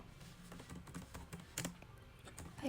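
Someone types an SQL query in PostgreSQL on a computer keyboard, giving quiet, irregular clicks in short bursts at close range.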